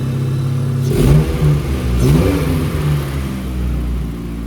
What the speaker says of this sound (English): Engine runs somewhat smooth.